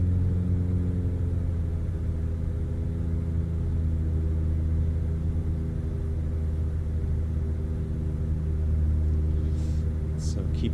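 Steady droning piston engine of a DA40-XLS light aircraft in MSFS 2024, held at a constant cruise RPM with firm low harmonic hum and no breaks, loud and continuous throughout.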